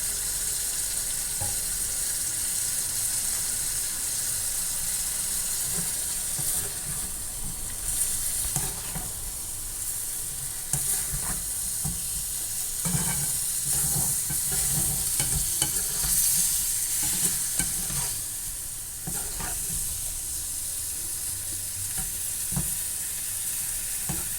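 Prawns frying in a pan with pepper powder as their water cooks off, a continuous sizzle broken by scraping stir strokes and clinks, close and fairly loud with no talk.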